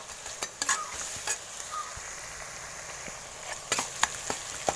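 Onions and tomatoes sautéing in a pan for a fish curry gravy, with soft frying sizzle and intermittent spatula scrapes and taps against the metal at close range.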